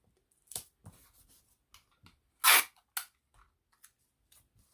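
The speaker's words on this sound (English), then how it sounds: "I'm going to tape it down." Pattern paper being taped down onto fabric for an embroidery transfer: scattered crackles and a loud rip of tape pulled from the roll, with a few soft rubs and taps, close and alone without talk.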